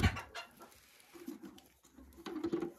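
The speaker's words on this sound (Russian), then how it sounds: "Здесь разновозрастные куры." Chickens of mixed ages make soft, intermittent clucks and low murmurs near and fairly quiet, with light scuffling sounds between the calls.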